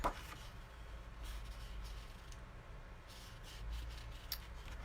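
Scissors cutting card pieces for a handmade card, quiet close snips and paper rustling over a low steady hum.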